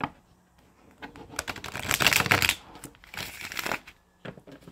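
Tarot cards are shuffled by hand in a few crisp bursts of riffling and flicking, loud and close, with short pauses between the bursts.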